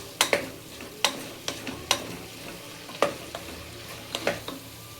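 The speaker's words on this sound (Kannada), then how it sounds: "ಈಗ ತರಕಾರಿ ಫ್ರೈ ಆಗ್ತಾಯಿದೆ. ಸ್ವಲ್ಪ ಎಣ್ಣೆಯಲ್ಲಿ ಚೆನ್ನಾಗಿ ಫ್ರೈ ಮಾಡ್ಕೋಬೇಕು ತರಕಾರಿನ" Vegetables fry in a little oil for vegetable masala sagu, a light bubbling sizzle punctuated every second or so by sharp ladle strikes and scrapes against the pan, close and clear with no talking.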